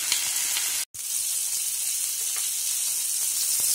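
Lamb pieces sear in a hot pan for a tajine, a steady close sizzle and hiss that carries on alone apart from one very brief drop out near the start.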